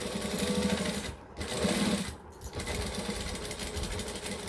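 A sewing machine stitches and back-stitches fabric, giving a close, steady mechanical whir broken by two short pauses as the direction changes.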